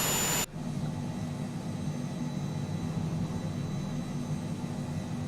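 Cessna C510 Mustang business jet taxiing on the ground in Microsoft Flight Simulator: a steady, even engine whine and hum that runs on throughout after a brief louder burst at the start, with no talking.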